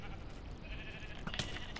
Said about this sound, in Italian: Perché ci sono delle pecore a casa mia?